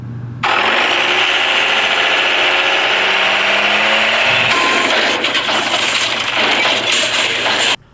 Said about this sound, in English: the old engine has dumped on me once again